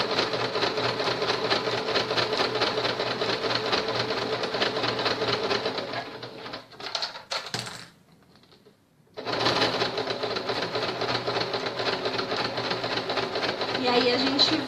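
A sewing machine runs steadily and close by as it stitches around the edge of a hygiene kit layered with bias binding, felt and plastic lining. It pauses briefly near the middle, then resumes its dense mechanical whir while a voice speaks over it.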